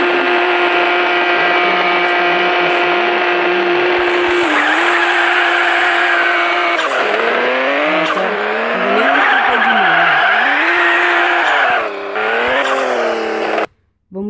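A drift car slides through a run with heated tyres, its engine wailing in loud rising and falling revs over continuous tyre squeal, the sound sustained for most of the stretch before cutting out abruptly near the end.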